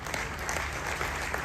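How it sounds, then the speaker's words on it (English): An audience at a cell leaders retreat applauds, a continuous wash of many hands clapping at even strength with no pause, heard from within the room. "please a round of applause for him"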